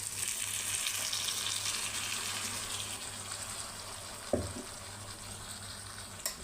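Faint, steady sizzling comes from a pan frying the base for palak rice with spinach paste, a soft continuous hiss broken by a single sharp clink and a small tap near the end.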